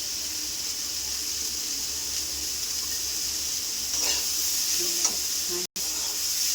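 Turmeric fries with cauliflower and potato in a pan as a steady, even sizzle-hiss, with a few faint clinks of stirring near the end and no voices.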